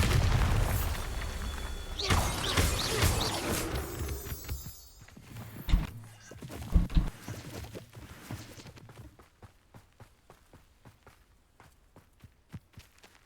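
A Bombarda spell explosion in Hogwarts Legacy: a loud roaring burst with a heavy boom and rumbling debris, then a few thuds and a string of light footsteps fading quieter.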